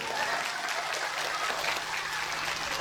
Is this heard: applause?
yes